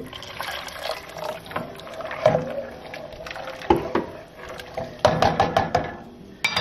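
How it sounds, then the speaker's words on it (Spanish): Water poured into a pot of vegetable soup being prepared on a stove, splashing and gurgling in uneven bursts with a few sharp knocks and clinks of the pot, close and moderately loud. "Así es que vamos a agregar más agua también."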